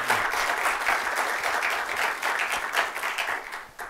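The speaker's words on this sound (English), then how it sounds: "Can we get another round of applause for everybody that made this possible?" Warm, sustained audience applause at a Northfield Public Library book reading by Sequoia Nagamatsu, a full room clapping steadily at close range before tapering off toward the end.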